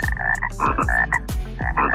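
A green frog croaking as a sound effect, a run of about seven loud, close, raspy croaks in quick uneven rhythm, heard alone.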